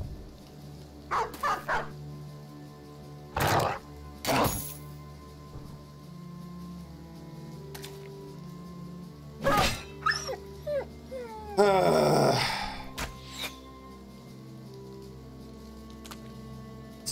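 Dogs in the Battle Brothers game bark in several short, sharp bursts, then break into a longer snarling, yelping tangle of growls and whines, all over a steady low background hum.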